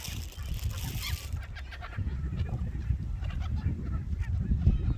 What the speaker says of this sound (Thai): ห่านนะคะกำลังล่อนลงค่ะ